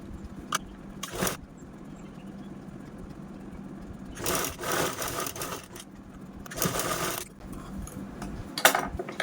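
A sewing machine stitches a fabric handle made from an old saree, running in several separate bursts of stitching with quiet pauses between them.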